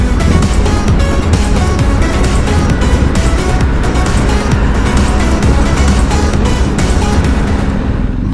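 A BMW R1250GS Adventure motorcycle cruises along a sunny, lightly trafficked highway through farmland, with a steady, loud engine drone and wind roar filling the whole stretch without a break.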